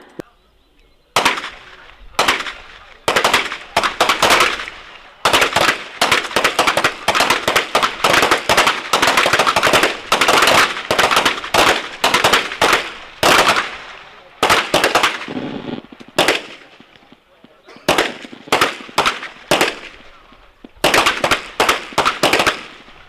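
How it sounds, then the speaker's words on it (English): M17 pistols fire at an Army Reserve qualification range as many shooters send rounds downrange, producing dense overlapping sharp cracks, sometimes in rapid clusters, with a few scattered shots tapering off at the end. "You will fire 10 rounds into target 1 from any position."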